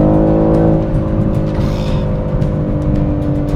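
A 2021 BMW M3 Competition engine growls steadily under throttle, with a deep, rich droning tone and a faint rattling texture, close and without talk.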